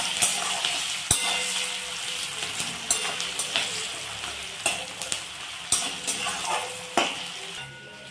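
Onions fry with added salt in a pan for a chicken kosha curry, giving a steady close sizzle broken by scraping stirs and occasional sharp clinks of a utensil against the pan, with no voices.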